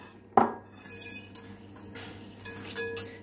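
Cupcake batter is mixed in a bowl. A sharp clink of a utensil against the bowl is followed by soft, close scraping and stirring.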